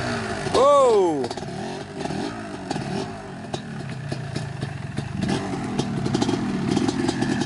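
A 1991 Kawasaki KDX250 dirt bike engine revs sharply up and down at close range, then settles into a rough clattering run, with people talking over it.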